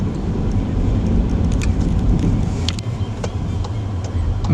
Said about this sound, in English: I need to turn the car around now